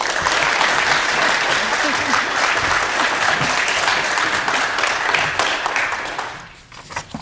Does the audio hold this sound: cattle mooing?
no